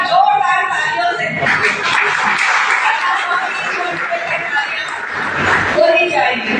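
Sustained crowd clapping fills a ceremony marking Devi Ahilyabai Holkar's 299th birth anniversary in Agra, steady throughout and mixed with voices and light chuckles.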